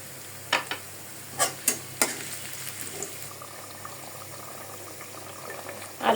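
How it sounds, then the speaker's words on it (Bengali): Hot baghar tempering sizzles for a beef curry served with thin masoor dal, a steady hiss broken by several sharp stirring clacks near the start and again at the end, with no voices. "আমি এখন বাগার দিয়ে দিচ্ছি, কারণ মাংসটা আমি কড়াইতে ঢেলে ফেলবো"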